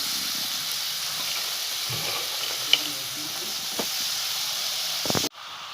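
Chopped radish leaves hit softened frying onions with a steady, close hiss of sizzling that holds throughout, a few soft stirring knocks, then cuts off abruptly near the end.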